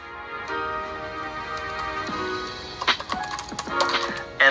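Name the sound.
typing a command on a computer keyboard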